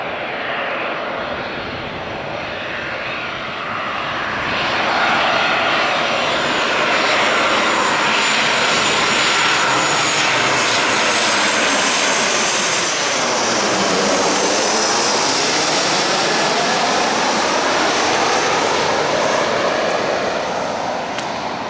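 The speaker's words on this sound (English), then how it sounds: "And here comes the next aircraft coming in" A Ryanair jet airliner from Luton approaches to land, its engine roar swelling and sweeping past steadily for about twenty seconds, loud and continuous with a rising and falling whine.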